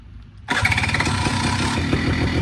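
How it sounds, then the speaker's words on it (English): An EFI engine cranks and catches abruptly after a short quiet moment, then settles into a steady, loud, close idle. "It cranks right up. Then you can just let it sit and idle."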